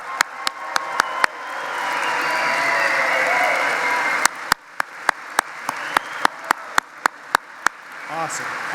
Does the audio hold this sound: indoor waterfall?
no